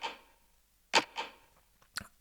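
Dry snare drum with all processing removed, a few quiet, clicky hits with short trailing taps at uneven spacing, played alone.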